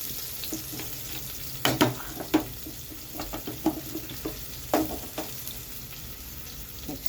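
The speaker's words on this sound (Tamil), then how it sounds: "எண்ணெய், கடுகு, பச்சை மிளகாய், கருவேப்பிலை, பெரிய வெங்காயம் ஒன்று கட் பண்ணி போட்டுக்கிறேன்" Mustard seeds, green chillies, curry leaves and a chopped large onion frying in oil, a continuous close sizzle with irregular stirring knocks and scrapes against the pan.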